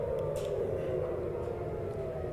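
An air raid siren in Israel wails steadily in the distance during a missile attack, faint and continuous, with a low rumble beneath it.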